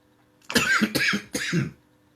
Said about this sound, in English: I don't mean to cough on camera, but I had to cough.